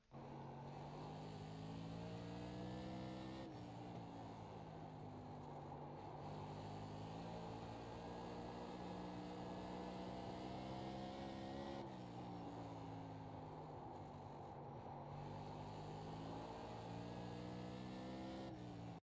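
A Tour Modified race car in the iRacing sim runs a qualifying lap at Concord, its engine droning loud and continuous from the cockpit, rising through revs and dropping sharply at two points before climbing again.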